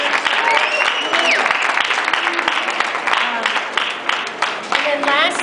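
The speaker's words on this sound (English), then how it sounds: "if you can give a round of applause to my staff" Applause at an award ceremony, loud close clapping with whoops and voices mixed in, a few sharp individual claps cutting through the steady crowd noise.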